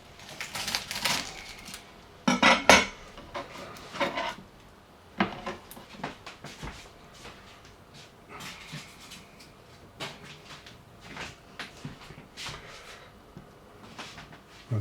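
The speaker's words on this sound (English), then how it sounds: "So we're just going to peel them, and then we're going to slice them" Onions being peeled on a chopping board make soft, irregular crinkles and scratchy papery tears, with a few sharper knocks and scrapes against the board, close and fairly quiet, without speech.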